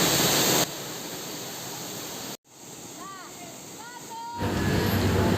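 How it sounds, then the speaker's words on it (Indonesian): Broad roaring rush of the Lubuk Tempurung waterfall near Padang, loud steady noise that briefly cuts out and dips before swelling back, with faint tonal chirps in the quieter middle. "Inilah penampakan dari air terjun Lubuk Tempurung"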